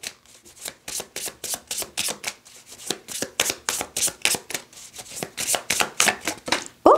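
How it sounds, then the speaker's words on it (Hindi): A deck of tarot cards is shuffled by hand with a quick run of crisp, rhythmic riffling slaps, close and fairly loud, continuing steadily for several seconds. "एक कार्ड और लेंगे इस डेक से और फिर टैरो को देखेंगे"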